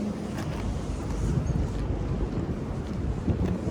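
Wind buffets the microphone outdoors on a super cold, windy day beside a parked Okubo Factory R34 Skyline sedan, a constant close rumble with gusty swells and no voices.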